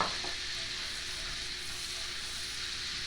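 Steady, bright sizzling of pork frying in a hot pan, a continuous crackling hiss with no voices.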